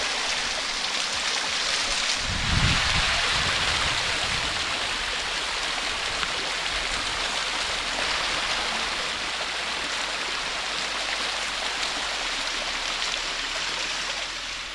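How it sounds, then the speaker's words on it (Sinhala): Water pours at the foot of the second cascade of Garadi Ella near Kalugala, making a dense, steady roar close by, with a brief, louder splash near the start. "ඔන්න අපි ගැරන්ඩියල්ල දෙවෙනි දියල්ල පාමුල"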